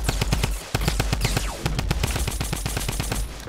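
Rapid automatic gunshots in Fortnite, a fast, steady burst of loud close shots that briefly pauses, then resumes in a quick rhythm.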